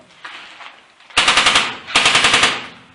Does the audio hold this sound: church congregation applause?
no